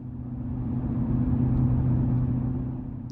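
A 2019 Mustang GT with a 10-speed transmission runs through a tunnel, its engine a deep, steady droning rumble that swells in the middle and eases slightly, with a faint tap at the end.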